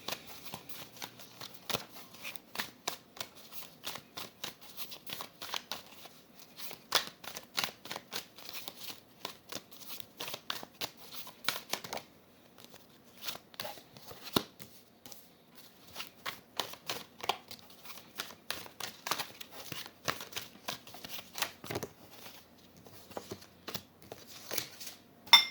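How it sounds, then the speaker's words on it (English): Tarot cards being shuffled and pulled from a deck, a long run of quick riffling bursts and soft snapping card flicks at close range with brief pauses, no talking. "I'm pulling 3 cards for the recent past, 3 cards for the present, and 3 cards for the near future from this deck."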